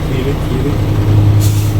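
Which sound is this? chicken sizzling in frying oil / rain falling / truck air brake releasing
truck air brake releasing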